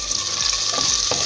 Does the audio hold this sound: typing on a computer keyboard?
no